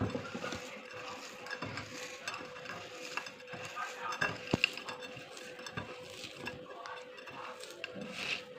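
A spoon stirs and scrapes through dried shrimp balachao bhorta as mustard oil goes in, making soft, close, continuous mixing sounds with occasional light clinks of utensil against the dish.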